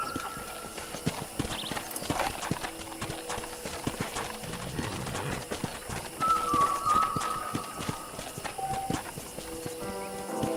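Horse hooves clip-clop in a steady walking rhythm on a ranch in the video game Red Dead Redemption 2, close and clear over soft ambient game sounds, with a brief whistle-like tone partway through.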